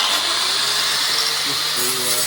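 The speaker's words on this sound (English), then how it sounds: "Oh, I hate these grinders." An angle grinder works a double-curvature repair section on a Rover 14 car door panel, giving a steady, harsh high-pitched whine with grinding noise that runs unbroken for the whole stretch.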